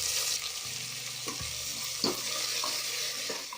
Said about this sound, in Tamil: இப்போ வெங்காயம் போட்டுக்கலாம்.